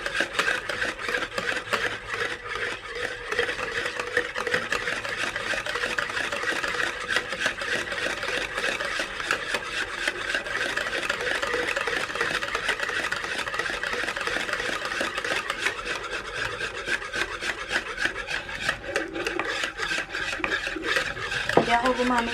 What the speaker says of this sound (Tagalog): Hindi ako gumamit ng mixer eh. Mano-mano lang. Maingay lang siya.